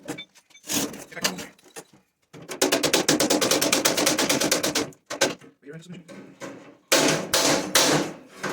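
Heavy hammer blows on a metal car door hinge during a rat rod build, struck in rapid repeated bursts with short pauses between runs, loud and close with a sharp metallic ring.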